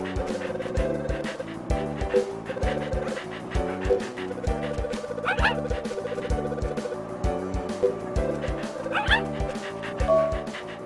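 Cartoonish puppy from the Nintendogs video game yipping and barking repeatedly in quick bursts, with occasional whimpers, over steady game background music.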